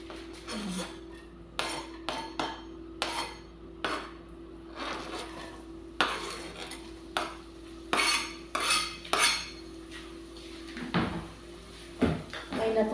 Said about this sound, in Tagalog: Natural na tunog galing sa mga utensils, mga belonging.